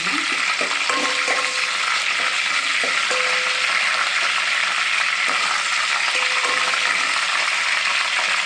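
Food frying in a pan for a chicken dinner, a dense, even hiss of sizzling oil that holds steady and fairly loud from start to finish, with occasional faint taps of a utensil.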